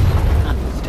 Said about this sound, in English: Time to cause an explosion.